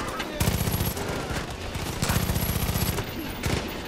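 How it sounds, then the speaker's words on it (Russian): Rapid bursts of gunfire in the video game Far Cry 5, loud repeated shots in several clusters with a shotgun among the weapons, under occasional voice. "там с дробовика как меня лупанули"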